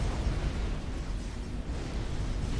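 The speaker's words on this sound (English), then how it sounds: "Strat bombers dropping their payload." Strategic bombers' bombs explode in a large Forged Alliance multiplayer battle, a dense, continuous low rumble of blasts rolling steadily without a break, with no talk over it.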